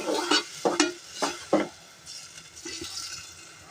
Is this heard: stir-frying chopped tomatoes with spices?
yes